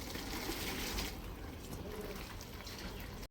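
Tap water runs through a sieve of washed wheat grain, a steady gushing splash that eases slightly midway and cuts off abruptly at the end, with no talking.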